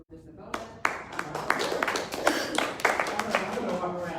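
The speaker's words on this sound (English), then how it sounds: "please, give a round of applause for Mr. Bona" Applause from a press conference audience fills the stretch, with clusters of sharp claps spreading into steady clapping and a voice or two underneath.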